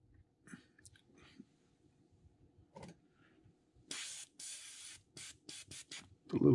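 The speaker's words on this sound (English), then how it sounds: "we'll get mainly spray on the stencil itself, get a little overspray toward the back" Several short hissing bursts from a spray can painting a crankbait fishing lure through a stencil, close by, separated by quiet pauses and faint handling noises.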